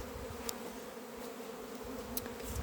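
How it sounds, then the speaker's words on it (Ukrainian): Young bees on orientation flights buzz around the hives of an apiary, a steady soft drone of many insects with occasional louder passes close by. "молода бджола обльотується"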